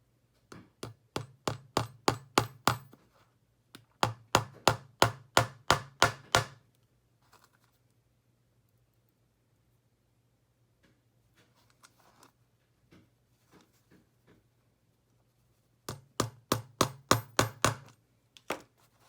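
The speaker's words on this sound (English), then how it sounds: "I just have a tiny hammer because this is kind of a small job." Rapid series of light, sharp taps from a tiny hammer on a small nail in a canvas craft project, three bursts of quick strikes separated by a quiet pause with a few scattered knocks.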